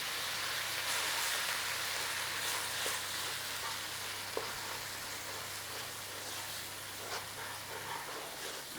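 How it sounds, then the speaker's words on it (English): Tomato paste and spices for a beef curry frying in a pan, giving a steady, close hissing sizzle with faint crackles and occasional stirring clicks throughout. "all we're going to do is bloom those spices a little bit in there"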